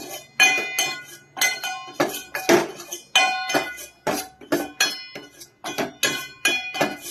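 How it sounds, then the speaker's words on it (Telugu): Repeated metallic clinks and scrapes of a utensil against a pan while stirring tomato chutney, in quick irregular strokes, close and fairly loud with no talking. "తొందరగా కలుపుకోవాలి ఇట్లా, లేకపోతే మాడిపోతుంది మొత్తం"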